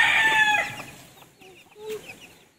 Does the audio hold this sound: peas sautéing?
no